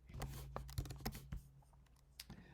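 Quiet keyboard typing: a short burst of soft, irregular key clicks, close by, with no voices.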